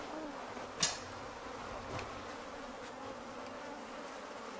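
A honeybee swarm hums steadily in the open air, a faint, even drone that carries on throughout, with one sharper close buzz as a bee flies past near the start.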